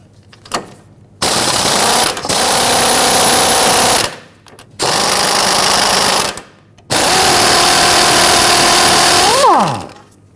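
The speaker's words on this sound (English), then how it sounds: "Using an 18 millimeter socket, we're going to loosen our outer tie rod nut." An impact or power tool drives an 18 mm socket on the outer tie rod nut of a Jeep Patriot, sounding in three loud whirring bursts separated by short pauses, the last one ending in a falling whine.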